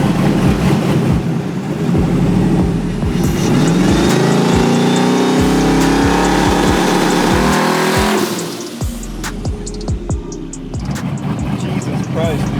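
A four-wheel-drive Mustang with a Powerglide transmission roars on a dyno, engine revving hard and tires whining loudly for about eight seconds before it drops to a lower rumble, with excited voices talking over it.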